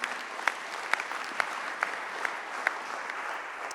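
An audience at a regional cycling plan presentation applauds Christian Prudhomme, a steady bed of clapping punctuated by sharp, close claps landing in a regular rhythm about every half second.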